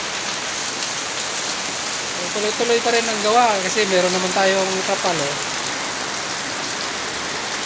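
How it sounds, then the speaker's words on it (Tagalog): Heavy typhoon rain pours down steadily and loudly over a backyard throughout, with someone speaking briefly over the downpour in the middle. "Malakas yung ulan kasi may bagyo."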